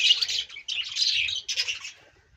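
Close, bright sparrow chirping in three quick bursts of twittering, then fading into quiet.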